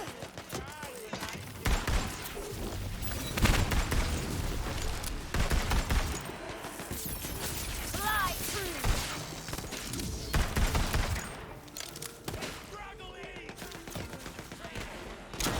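Gunfire from the Tiny Tina's Wonderlands video game comes in rapid bursts and scattered shots with impact crashes, loud and close, while voices talk over parts of it.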